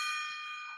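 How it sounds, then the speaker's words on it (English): A single bright metallic gong strike used as a sound effect rings out loudly, its shimmering tone fading over less than a second with no voice over it. "you're going to hear it, the big gong of truth"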